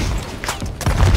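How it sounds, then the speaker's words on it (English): Blunder bomb explosion in the video game Sea of Thieves, a quick sequence of sharp bursts and thuds ending in a heavier low boom, loud and close. "I blew him up with a blunder bomb"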